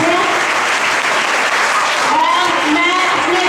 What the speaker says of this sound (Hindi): बहुत जोरदार तालियां